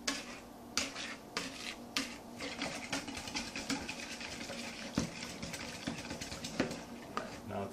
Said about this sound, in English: just whisk all this together, get a good mixture